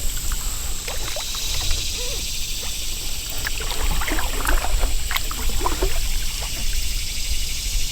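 Canoe or kayak paddling along Swift Creek between Vanceboro and Cool Springs: steady broadband water wash with faint dribbling paddle splashes and trickles, close and continuous with no talking.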